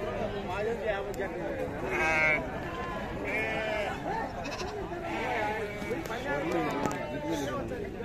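Goats and rams bleat repeatedly at a crowded goat market, several calls rising over the general crowd hubbub while someone talks close by.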